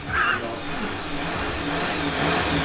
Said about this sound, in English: we've got George in the background revving the crap out of my car